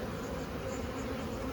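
Honeybees buzzing in an open hive box during an inspection by a beekeeper, a steady dense drone close by with no talking.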